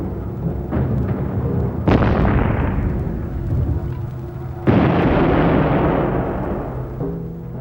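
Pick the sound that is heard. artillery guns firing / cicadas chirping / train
artillery guns firing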